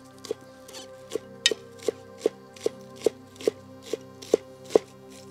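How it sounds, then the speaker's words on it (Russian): A Chinese cai dao cleaver chops herbs on a board in about a dozen crisp, evenly spaced knocks, each sharp and close, with quiet moments between strikes. "если мы шинкуем зелень, мы можем нарезать вот таким образом"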